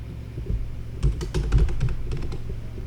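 Fast typing on a computer keyboard while writing GameMaker Studio 2.3 code, a close run of quick clicky keystrokes with a few heavier taps in the middle, nothing else in the background.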